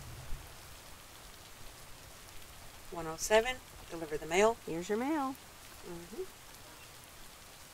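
Steady rain falls in a video game as a soft, even hiss running throughout, with a voice speaking briefly over it in the middle.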